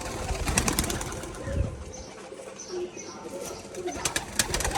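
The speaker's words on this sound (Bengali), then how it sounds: "সব ডানা ছোট কিন্তু দেখুন দোবাজ মাদি পায়রা" A Dobaj female pigeon gives soft, low coos, with a brief flutter of wings and faint human voices nearby in a quiet loft.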